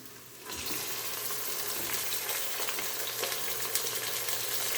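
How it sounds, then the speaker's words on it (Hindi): Mutton and onions fry in hot oil in a pan, giving a steady, dense sizzle that swells in after a brief quieter moment and holds constant, close and alone. "इसको भी फ्राई कर लेना है आपने गोश्त के साथ। प्याज को साथ साथ फ्राई कर लें"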